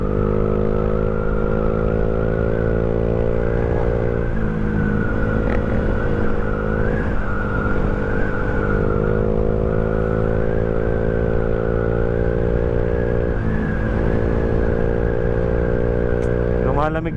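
Night road traffic at the Balagtas roundabout, with motorcycles and cars producing a continuous, loud engine drone that swells and eases as vehicles pass close by.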